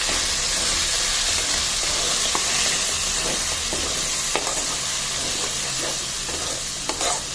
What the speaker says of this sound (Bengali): দুটো দিয়ে আবারও আমি ভেজে নেবো